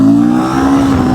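A single-cylinder Royal Enfield sports motorcycle engine holds a steady, throaty rev around 4000 RPM at close range, loud and continuous with a slight vibrating drone.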